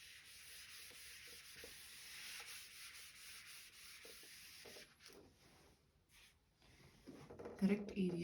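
A teacher rubs writing off a classroom board during a surveying lesson, a soft scratchy back-and-forth rubbing that carries on for several seconds before fading, with speech resuming near the end.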